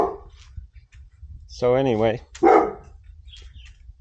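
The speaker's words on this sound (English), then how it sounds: "stop barking" A dog gives a couple of short, whining barks close by, one a wavering yelp and one a sharper bark, heard over low background noise while someone speaks briefly before them.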